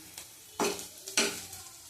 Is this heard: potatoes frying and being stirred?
yes